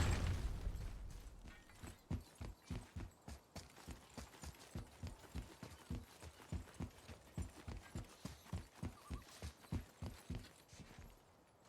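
Horse hooves clip-clopping in the God of War video game, a steady regular rhythm of soft thuds at a trotting pace, continuous for several seconds under a low ambient hum.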